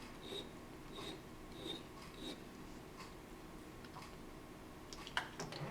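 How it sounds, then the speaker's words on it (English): Hand filing trims a small metal spigot from the end of a machined part for a PM Research Solar Stirling engine, making soft rasping strokes that repeat every half second or so, close but quiet, with a few sharper clicks near the end. "I'm going to file off the little spigot that stuck out on the end"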